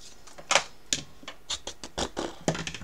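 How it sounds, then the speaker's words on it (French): Paper card is cut for a snail-style scrapbook album, giving a series of sharp, quiet snips and clicks in an irregular rhythm, close and alone. "Donc, je coupe."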